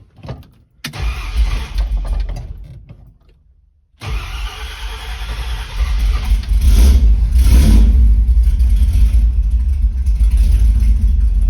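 A Ford Torino fitted with a new starter cranks in two tries, fires on the second, then revs up loudly and holds a strong, steady roar close by.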